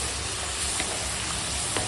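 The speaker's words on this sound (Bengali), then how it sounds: "এখন ঘি গরম হয়ে গেছে, আলুগুলো ছেড়ে দিলাম" Potatoes fry in hot ghee with a steady, close sizzle that continues evenly for about two seconds. Faint stirring clicks sound beneath it.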